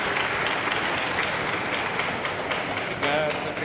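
An audience applauds at a health caravan talk, with continuous, dense clapping filling the room and a brief voice near the end.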